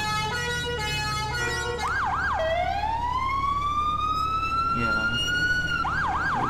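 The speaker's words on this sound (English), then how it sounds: "Police bike now." A British police motorbike siren wails loud and close, switching between rapid yelp bursts and a long rising wail, with road traffic rumble beneath and no talking.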